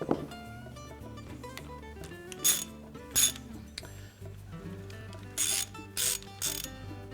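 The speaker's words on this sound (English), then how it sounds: "just pull out on that belt while you're rotating the drive pulley and set that aside" Mechanical clicking and clinking of a washing machine drive pulley turning as the belt is rolled off, with sharp metallic ticks and short bursts of rattling, quiet and close.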